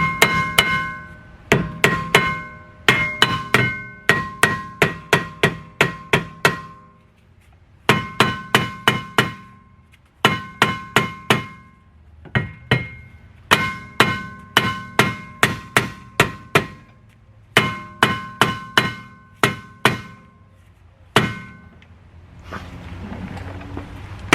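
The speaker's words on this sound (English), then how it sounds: "we're gonna get a rubber mallet and kind of just tap it around" A rubber mallet taps a brake rotor on the rear wheel hub of a 2002–2006 Nissan Altima, delivering bursts of sharp, ringing metallic knocks in quick series separated by short pauses, close and loud.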